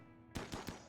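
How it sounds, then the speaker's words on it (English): Cannons fire three quick booming shots in RimWorld, faint and distant, following a low ambient hum with no talk. "We have the cannons firing."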